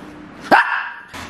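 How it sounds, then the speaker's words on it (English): A dog gives a single sharp, loud bark close by, with a brief ringing tail and low background noise around it. "That's my dog barking."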